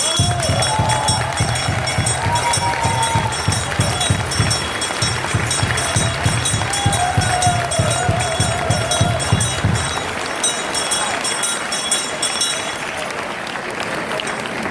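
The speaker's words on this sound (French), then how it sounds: "Respect, acclamation et clap s'il vous plaît" A carnival crowd in Malmedy applauds and cheers after a speech, a loud sustained wash of clapping with a steady rhythmic beat of unison claps through most of it, then a looser roar and cheering as the rhythm stops.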